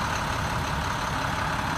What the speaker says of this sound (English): This particular one has the GT466 engine, which is basically a non-emissions inline six-cylinder